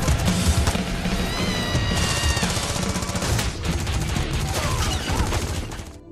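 Rapid bursts of automatic gunfire in a film shootout fill the scene, dense and continuous, mixed with loud cracks, ringing tones and crashing impacts.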